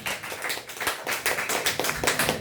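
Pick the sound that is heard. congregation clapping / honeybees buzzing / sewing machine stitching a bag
congregation clapping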